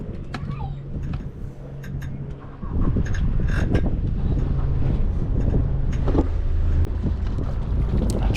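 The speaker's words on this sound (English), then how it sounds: "Engines are being started." Twin engines on a sailboat start up at the dock, a low droning rumble with a brief steady tone before swelling into a louder continuous idle, close and heavy with wind buffeting the microphone.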